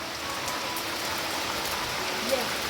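Rain starts falling again over a Konkan village: a steady, even hiss of rainfall with a faint patter on surfaces, continuous and moderately loud throughout.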